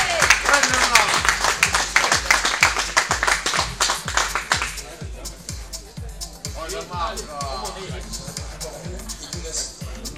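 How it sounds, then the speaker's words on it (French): Audience applause at a K1 kickboxing European championship weigh-in as a fighter is introduced; loud, dense rhythmic clapping for about five seconds, then fading to scattered claps under crowd murmur and a voice. "Alors veuillez applaudir, mesdames et messieurs, Jean-Marc Morvan."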